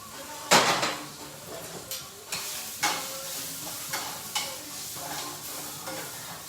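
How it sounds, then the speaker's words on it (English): Dry brown rice and quinoa poured into a hot pot, with a loud sharp rush at the start followed by several lighter scraping, stirring and sizzling bursts, no voices. "I'm just gonna pour a little bit of this into the pot. It's hot"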